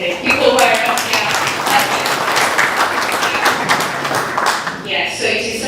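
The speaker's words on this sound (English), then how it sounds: "I just want us to clap for ourselves and the people who are up here." An audience at an accreditation launch event bursts into sustained applause, dense clapping filling the room for several seconds before a voice resumes at the end.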